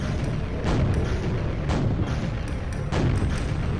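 Repeated heavy booms and blasts in the Quake mod Sacrilege, several explosions at uneven intervals over a dense rumbling background.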